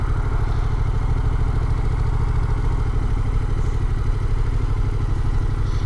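A Yamaha FZ-07 700 motorcycle engine idles steadily and close by, a continuous low throb with light mechanical clatter and no talking over it.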